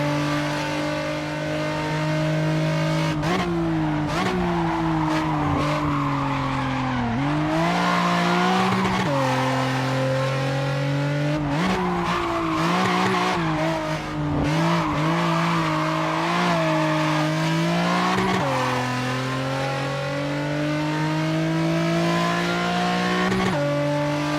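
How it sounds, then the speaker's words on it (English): Race car in Assetto Corsa Japanese pack heard from a chase camera, a loud engine revving up through repeated gear changes with rising and falling pitch, occasional tire squeal, continuous with no talk. "so that car actually sounds reasonably good from a chase camera"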